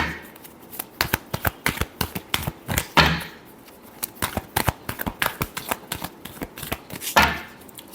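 Tarot cards shuffled by hand in rapid bursts of crisp papery flicks and slaps, close and moderately loud, with a couple of heavier riffles.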